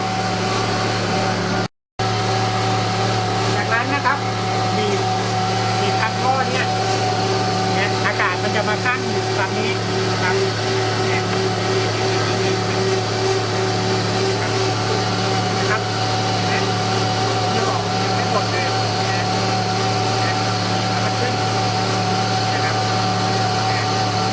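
A car engine in an open-radiator cooling system idles steadily while warming up from cold, a constant near hum running through the whole stretch with a brief dropout, and faint talk underneath.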